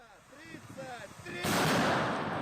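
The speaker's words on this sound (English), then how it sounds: "Russian artillery moves into position in the grinding battle for the Donbas." Russian artillery fires in winter mud during fighting in the Donbas. Quieter mixed sounds come first, then a loud, broad roaring blast that holds to the end.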